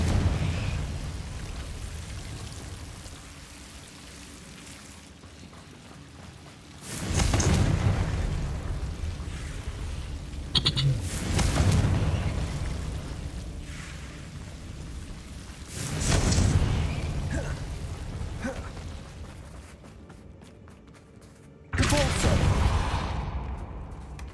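Confringo blasting spells explode in the Hogwarts Legacy video game, several loud, sudden bursts spaced several seconds apart over a quieter background of combat, each decaying in a rumbling tail.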